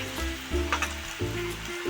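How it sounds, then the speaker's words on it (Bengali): Chopped tomato drops into onion, ginger and garlic frying in oil for a fish egg curry, a close, steady sizzle with a short flare as it goes in. "এবার আমি টমেটোটা দিয়ে দেবো।"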